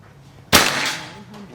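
A single sharp shot from an Escobar PCP air rifle firing a slug pellet during an accuracy test, a loud broadband crack with a brief trailing decay, heard alone.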